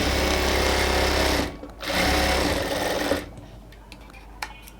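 A sewing machine double-stitches a dress made from a sari, running loud and continuous with a brief pause partway through, then stopping, followed by quieter handling noises and small clicks.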